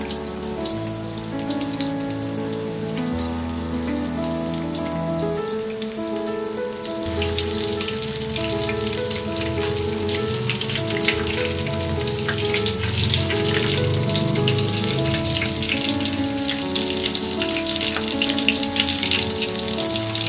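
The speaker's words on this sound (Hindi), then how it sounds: "ये कटलेट्स को दोनों तरफ फ्लिप करते हुए फ्राई करेंगे।" Vegetable cutlets frying in hot oil, flipped to cook on both sides, give a loud, continuous crackling sizzle throughout, rising a little busier partway through, with no talking.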